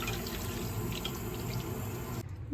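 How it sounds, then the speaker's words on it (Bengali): Steady stream of water being poured over lentils in a home kitchen to soak them, a continuous close splashing rush that stops abruptly near the end. "ডালগুলা ভালোভাবে ভিজিয়ে বসিয়ে দিব"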